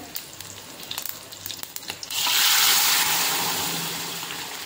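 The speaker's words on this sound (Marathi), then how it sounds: "तेल गरम झालं की त्यात जिरं, कढीपत्ता आणि हिरवी मिरची घालायची। थोडीशी हळद घालून आपलं वरण घालायचं।" Dal poured into a pan of hot oil tempered with cumin seeds, curry leaves, green chilli and a little turmeric, with light crackling that bursts into a loud, steady sizzle which slowly fades.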